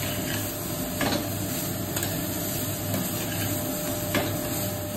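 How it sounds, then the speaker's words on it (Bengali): Cabbage, soybean, beans and carrot frying together in oil, a steady close sizzle broken by a few sharp spatula clicks, no talking. "ভাজা হচ্ছে।"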